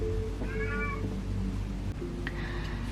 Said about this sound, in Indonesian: kucing saya sudah berhenti mengeong